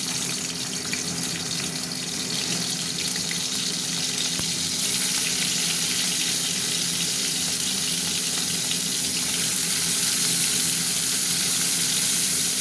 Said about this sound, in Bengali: এবার এই চিকেনগুলো চিপসে চিপসে দেবো, ভাজবো।